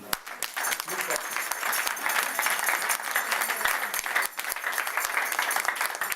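A church congregation applauds in praise of Jesus with steady, dense clapping that fills the room at moderate loudness throughout, while cheers and voices mingle in.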